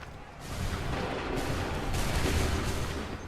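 A volley of musket gunfire in a British redcoat battle scene, dense overlapping booms rolling out as one loud sustained blast rather than separate shots.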